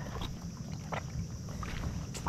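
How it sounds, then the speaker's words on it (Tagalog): Steady wind roaring and buffeting a microphone outdoors near water, constant and fairly loud with faint lapping underneath. "Grabe talaga kalakas ng hangin."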